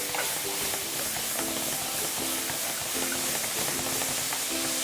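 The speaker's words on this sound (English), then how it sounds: "I'm gonna add a couple tablespoons of this marinade, the steak marinade, and it's gonna help my onions to cook." Onions frying in a pan with added steak marinade, a loud steady sizzle and hiss with repeated scraping stirs at a regular pace, close up and without talk.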